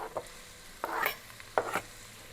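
Diced onions go into a hot pot for homemade tomato sauce, setting off short bursts of sizzle and stirring scrapes between quieter gaps.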